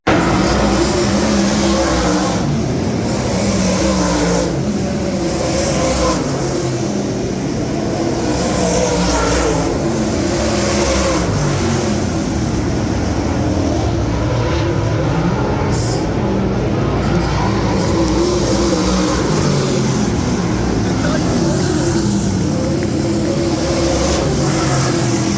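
Race cars circle the track at Red Cedar Speedway, a continuous loud roar of engines and passing cars that fills the whole stretch, with faint crowd or announcer voices blended in.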